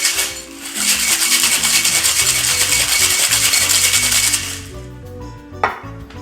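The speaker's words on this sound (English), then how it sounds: "give a nice little whack, and whip shake for about 5 to 8 seconds" A cocktail shaker full of ice whip-shaken hard for about four seconds, a dense, loud, continuous rattling of ice, then stopping with a single sharp knock.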